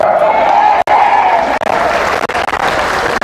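A church congregation in Batangas claps together during worship, producing a loud, continuous wash of applause with a few brief breaks in the clapping.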